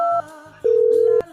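A phone call rings out as a clear electronic tone, with a long steady beep in the middle and shorter tones before it, loud and close with no talking.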